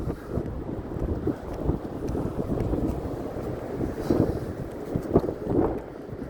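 Strong wind blows outdoors on a cold, cloudy day in downtown Regina, a steady low rumbling roar buffeting the microphone throughout with gusty swells and no voices.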